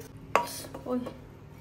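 A pressure cooker lid is opened in a home kitchen while misal pav is being made: one sharp metallic clank, then a few faint rattles and soft clinks nearby.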